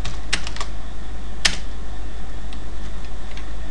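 Computer keyboard typing of a code comment, a few scattered key taps with one sharper clack, then faint sparse clicks, close and alone without talk.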